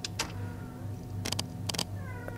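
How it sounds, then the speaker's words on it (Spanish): A pet black female cat gives a short, faint meow near the end, heard under a steady low hum and several sharp clicking game sounds. "¿Escucháis mi gata?"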